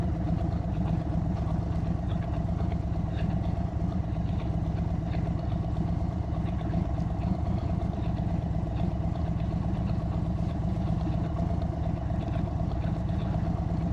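An Indian Chief motorcycle engine idles steadily after starting, a loud, even low rumble with no variation in pace and no voices.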